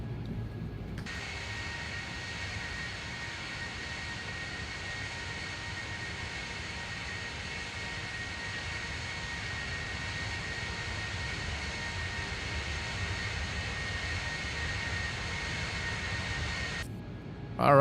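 Embraer E-190 jet engines spool up in the X-Plane 12 flight simulator, a steady, loud roar holding level for about sixteen seconds before cutting off abruptly.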